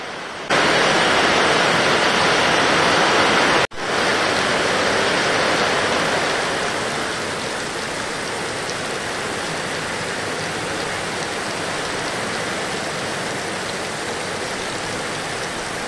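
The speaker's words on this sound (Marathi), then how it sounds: "तितक्यात पडतोय जोरदार पाऊस मध्ये थांबतोय आणि 5-5 मिनिटासाठी पुन्हा येतोय" Heavy monsoon rain pours down in a steady, dense roar during a Ganpati visarjan downpour that stops and returns, briefly cut off once, then continuing slightly softer.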